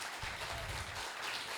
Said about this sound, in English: I'd like us to give them a big round of applause